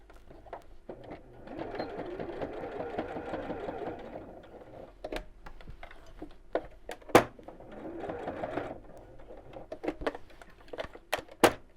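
A sewing machine stitches around the edges of fabric pieces for a fold-away tote bag, running in steady bursts with short pauses between them, and a few sharp clicks and knocks at close range.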